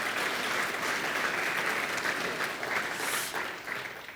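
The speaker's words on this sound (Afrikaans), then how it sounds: "Kan ons net nog 'n keer vir hulle hande klap gee asseblief?" Steady applause from an audience at a church gathering, a dense, even wash of many hands clapping at moderate distance, holding level for several seconds before easing slightly.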